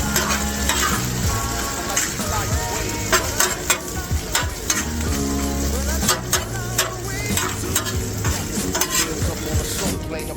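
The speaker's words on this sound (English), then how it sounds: "We're gonna flip it and fold it and fold the cheese into the meat." A5 Wagyu beef and cheese sizzling on a Weber Slate griddle for a cheesesteak, a loud crackling sizzle close up with scraping and folding of a metal spatula and occasional sharp clicks.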